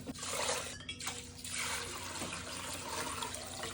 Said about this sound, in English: now I have my sieve in and we're gonna strain again